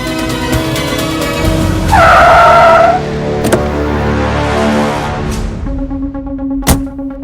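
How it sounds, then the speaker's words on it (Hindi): A car skids to a halt with a loud tire squeal, a screeching tone rising out of engine rumble before a short, sharp thud and then idling. "रोकिए, गाड़ी रोकिए।"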